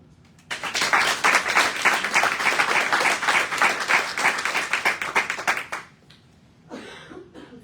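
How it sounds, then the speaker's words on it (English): Audience at a UN forum session applauding, a burst of close, crisp clapping that begins abruptly, stays strong for about five seconds, then cuts off, followed by a brief cough or murmur. "I want to ask for a strong round of applause for all the women that are no longer here"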